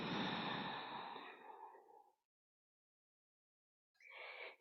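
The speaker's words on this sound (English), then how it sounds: "listening to that soft snoring sound of your breath" Soft, snore-like yoga breathing is heard close up: one long exhale fading out, a few seconds of silence, then another breath begins.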